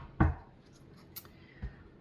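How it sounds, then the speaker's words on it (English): Tarot cards being shuffled by hand, a short riffle snap near the start followed by a couple of softer card taps, close and alone with no talk. "Sorry, last shuffle."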